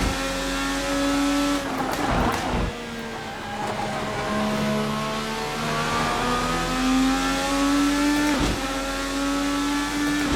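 High-revving 2020 IndyCar engine in the racing video game Assetto Corsa, whining up and down through gear shifts, loud and continuous, with occasional sharp bursts and tire noise.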